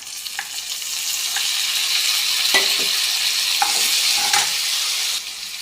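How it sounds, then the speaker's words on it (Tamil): Onion and tomato sauté in a pan for semiya upma, a steady close sizzle of frying with occasional scrapes and taps of a stirring spoon. "நல்லா வதங்கட்டும்"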